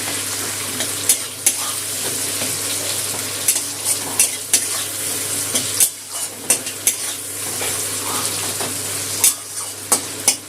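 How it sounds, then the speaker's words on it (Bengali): Onion frying in oil with a little salt in a pan, a steady close sizzle broken by sharp clinks and scrapes of a spatula stirring at irregular intervals. "পেঁয়াজটা এদিকে লাল করে ভেজে নেব।"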